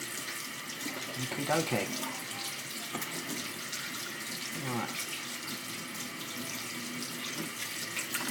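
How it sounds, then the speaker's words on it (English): A kitchen tap runs steadily while fingers are rinsed under it, giving a continuous broad splashing hiss, close by, with a brief spoken remark over the water. "Give your fingers a quick wash."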